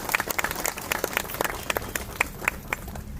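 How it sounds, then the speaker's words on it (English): A small crowd at a We Ride road safety rally in Mumbai claps, a thin, scattered patter of separate hand claps heard fairly faintly for a few seconds. "a big clap for him for promoting this road safety awareness"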